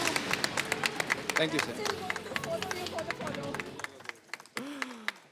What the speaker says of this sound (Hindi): वरिंदर जी, अंकिता जी के लिए जोरदार तालियां।